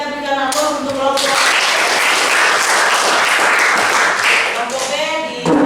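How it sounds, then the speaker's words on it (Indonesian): A classroom full of students applauding a presenting group, a dense burst of clapping lasting several seconds, with a teacher's voice before and after it. "kita berikan aplaus untuk kelompok"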